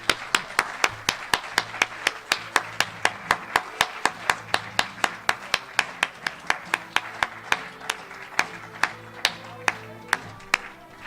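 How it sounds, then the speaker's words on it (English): An audience at an 8th grade promotion claps together in a steady, even rhythm of about three sharp claps per second, continuing evenly for around eleven seconds with little else around it. "And here's where we applaud."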